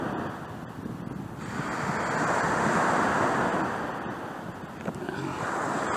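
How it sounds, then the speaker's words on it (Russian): Sea waves wash onto a beach at Çamyuva in Turkey, a steady broad roar that swells in the middle and eases off again, with wind buffeting the microphone. "Вот такие волны."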